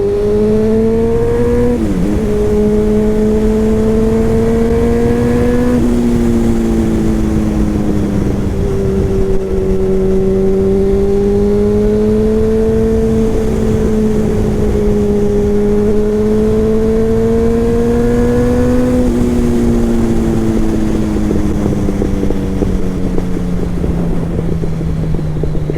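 Motorcycle engine pulling hard on a dry road with no junctions in winter, a loud steady drone rising and falling in pitch through gear changes, with wind rush throughout and no talking.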